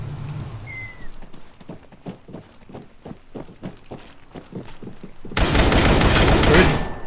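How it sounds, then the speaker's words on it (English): Gunfire in the Arma 3 battle royale video game, a rapid run of distant shots that gives way to a loud, dense burst near the end. "I'm getting shot."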